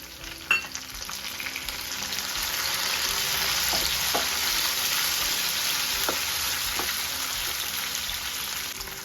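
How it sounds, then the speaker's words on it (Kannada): Onion and tomato fry in a hot pan for Mangalorean mutton curry, giving a steady loud sizzle with a few soft stirring taps and scrapes throughout, no talking. "ಸೊ ಇವಾಗ ಚೆನ್ನಾಗಿ ಫ್ರೈ ಮಾಡ್ಕೊಳ್ಳೋಣ"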